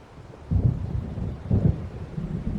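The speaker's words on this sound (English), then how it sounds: "It seems there's a storm coming." Thunder rumbles through a stormy night in the game Alan Wake Remastered, two deep rolling booms about a second apart over a steady low wash of rain and wind.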